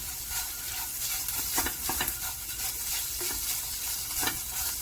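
Huevos con chorizo frying in a pan, a loud, continuous crackling sizzle with occasional sharper pops and scraping stirs, heard up close with no voices.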